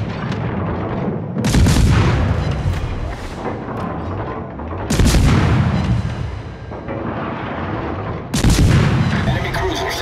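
World of Warships warship guns fire in three heavy, booming salvos spaced a few seconds apart. Each rolling blast is loud and close and fades into a rumbling tail.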